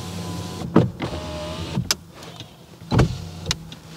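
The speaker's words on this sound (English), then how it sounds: "roll the window down a little bit." A car's power window rolls down, a low motor whir running under a few sharp clicks and thumps from the door, close and fairly loud inside the cabin.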